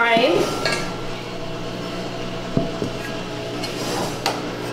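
Three cast iron pans being handled, with metallic scrapes, light clanks and a few sharp knocks at close range over a steady background hum.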